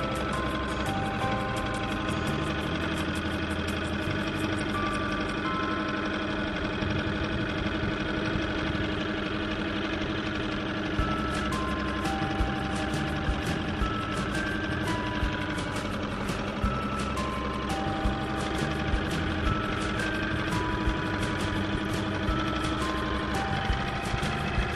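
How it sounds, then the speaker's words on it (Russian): A boat's engine idles steadily on the water during a fishing trip, a constant mid-range drone with a faint high-pitched periodic chirp running throughout, unbroken and with no voices. "Глушим двигатель и будем здесь якориться."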